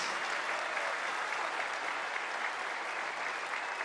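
Steady, dense applause from a large crowd at a Labor Day political rally at the Dos Bocas refinery in Paraíso, Tabasco. It fills the whole stretch evenly and loudly, with no talk over it.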